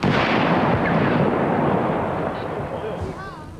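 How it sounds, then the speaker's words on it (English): Explosives detonated at a landfill produce a loud, sustained booming rumble that fades slowly over several seconds, heard alone in the open air. "Explosives which caused heightened tensions in Bedford were detonated without incident at an area landfill earlier tonight."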